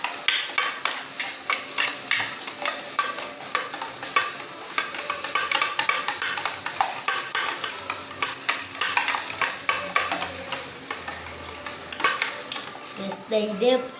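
Cake batter with brown sugar being mixed in a bowl, a quick, regular run of clacking and scraping strokes from a spoon against the bowl, close and continuous throughout.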